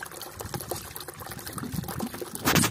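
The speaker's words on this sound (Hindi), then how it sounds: "हम ये पानी भर रहे हैं।" Water pours and splashes steadily into a container at a house construction site, a continuous liquid rush that swells louder near the end.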